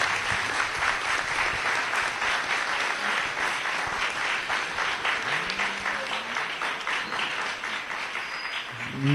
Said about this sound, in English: Let's have one big round of applause for both of the finalists.